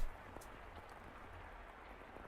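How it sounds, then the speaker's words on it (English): Rain in the visual novel game The House in Fata Morgana, a faint steady patter with a low rumble underneath, quiet and unbroken throughout. "rain won't let up."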